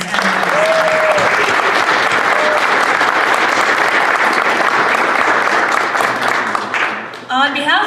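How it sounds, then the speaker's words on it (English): An audience at an arts awards gala gives a steady, sustained round of applause, dense and loud for several seconds, then fades as a voice begins speaking. "Round of applause again for all the nominees and winners."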